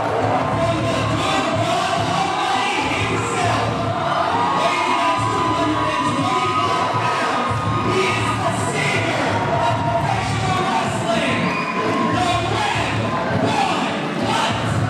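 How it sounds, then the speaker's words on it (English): Loud, dense arena crowd at a live pro wrestling event, cheering, shouting and whooping steadily as a wrestler makes his way to the ring, with occasional thuds and some talk mixed into the roar. "This crowd is electric."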